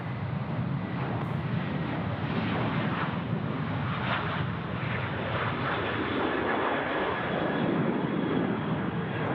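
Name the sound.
airplane at Sydney Airport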